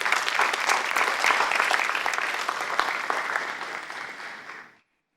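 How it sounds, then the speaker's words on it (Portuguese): A church congregation claps strongly during a Sunday morning service, a dense, steady wash of applause that holds for about five seconds and then stops abruptly. "Dê um aplauso bem forte a Deus."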